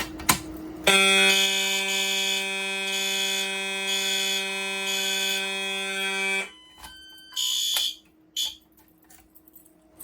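Pulling a Simplex 4251-20 pull station sets off a Silent Knight 6808 fire alarm system. A loud, shrill electronic alarm tone sounds in a pulsing pattern for about six seconds, then cuts off and is followed by a few short bursts.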